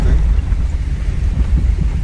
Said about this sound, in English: So I'm driving up to the top now